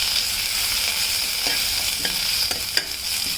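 Ajwain leaves and tamarind fry in a pan for pickle, a steady close-up hissing sizzle broken by several light spoon scrapes as the mixture is stirred.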